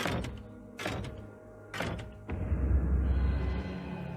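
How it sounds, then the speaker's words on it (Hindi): A door sound effect from a Hindi horror story: a few heavy thunks and knocks, then a swelling rumbling noise that fills the rest. "अचानक ही दरवाजे की एक आवाज हुई।"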